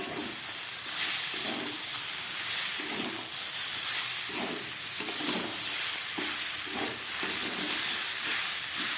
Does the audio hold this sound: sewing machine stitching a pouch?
no